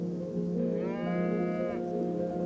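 A single long cow moo rises over a steady low rumble of background noise, close and fairly loud, with no talking.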